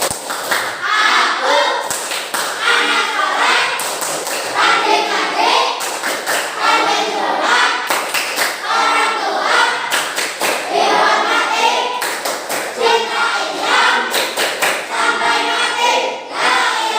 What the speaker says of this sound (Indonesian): Kemudian kedua, tepuk anak soleh